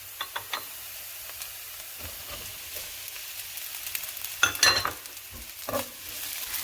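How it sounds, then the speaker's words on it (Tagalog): Shredded chicken sizzling in a pan for chicken sotanghon guisado, a soft steady fry broken by clattering utensil stirs and scrapes, close, without talk. "ngayon, ilalagay na natin yung shredded chicken."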